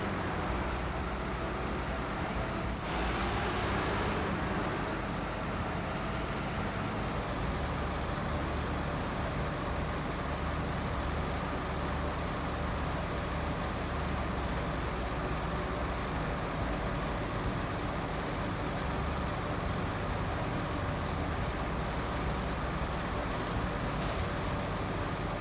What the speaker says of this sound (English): This is really the only truck that is loud for some reason.